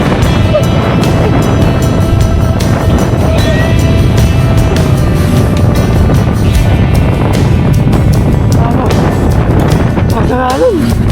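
Strong wind buffets the microphone at a riverside fishing spot after a typhoon, a steady loud roar through the whole stretch, with people talking over it now and then.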